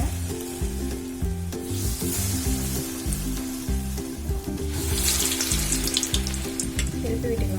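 Medu vada batter fries in hot oil with a bright, crackling sizzle that grows busier toward the end, heard close over a steady background of music.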